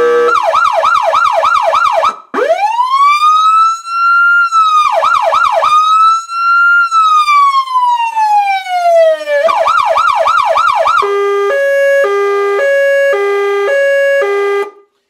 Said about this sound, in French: la position Yelp, en fait, c'est la position permanente au niveau du son modulé